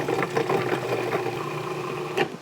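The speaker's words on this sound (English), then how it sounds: "going into the food processor with 2 egg yolks, a healthy shot of some Dijon mustard, and some garlic" A food processor blitzing egg yolks, Dijon mustard and garlic, a continuous whirring motor hum with a faint rhythmic rattle, close and moderately quiet, with no talk over it.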